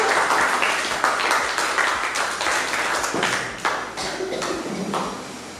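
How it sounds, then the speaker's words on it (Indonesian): Classroom applause for a student group stepping up to present during an Indonesian teacher-training lesson: a steady, moderately loud patter of many hands clapping that continues throughout without a break. "Beri tepuk tangan untuk kelompok 2 lainnya."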